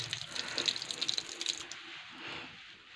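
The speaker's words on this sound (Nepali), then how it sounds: "पानी चाहिँ आउँदो रहेछ, तर यो धाराको टुटीहरू गएको रहेछ" Water runs from a broken tap at a hilltop school's drinking-water point in Udayapur, Nepal, a close, splashy gush with bright dripping spatters that eases off toward the end.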